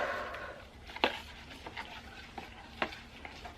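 Hair toner and developer are stirred together in a bowl with an applicator, giving soft, wet swishing and scraping broken by a few sharp clicks against the bowl's side.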